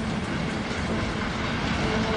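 Train rolling along the Trans-Siberian Railway, moving troops west toward Moscow in winter 1941; a steady, dense rumble of wheels and carriages runs continuously throughout, with no voices.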